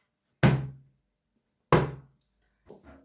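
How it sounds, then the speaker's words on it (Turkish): Olives being crushed with a soda bottle, two sharp close thuds about a second apart followed by a softer knock and rustle. "Gazoz şişesi de çok güzel eziyor arkadaşlar."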